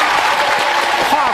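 A TV dating show studio audience applauds loudly and steadily at close range, with dense clapping under a host's voice.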